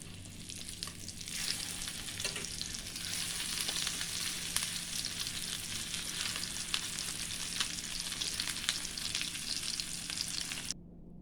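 Homemade Salisbury steaks sizzle steadily in a hot pan, a continuous, close crackle with a few scraping thuds as the patties are turned, cutting off abruptly at the end.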